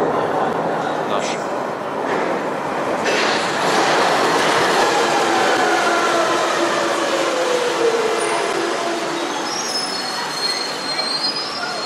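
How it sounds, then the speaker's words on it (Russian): A London Underground train pulls in with a loud, drawn-out wheel squeal over a steady rumbling roar, the screech sliding downward as it slows. "Вот идет поезд."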